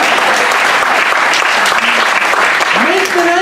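An audience at a French comedy show applauds, with loud, sustained clapping packed close together and voices rising and calling out over it.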